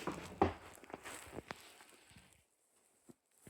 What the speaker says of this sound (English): I just heard some footsteps, like a little mouse or something.